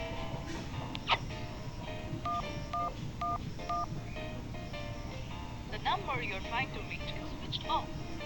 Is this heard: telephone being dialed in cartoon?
yes